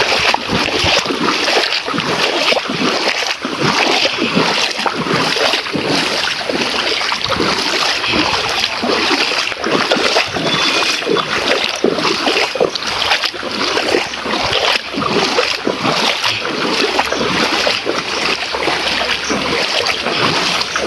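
Floodwater surges strongly through a village, a loud, continuous rushing and splashing roar close by, with no voices over it.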